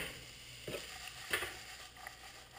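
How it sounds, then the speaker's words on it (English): Onions softly sautéing in a pan, a faint, quiet sizzle with a few light stirring taps. "And so then we're just going to wait till it sautés up"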